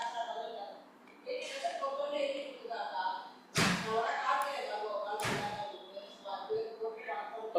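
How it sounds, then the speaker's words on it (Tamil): A door is shut indoors, giving two loud, abrupt thuds a couple of seconds apart while people keep talking around them. "ஒரு நிமிஷம் கதவை சாத்தே"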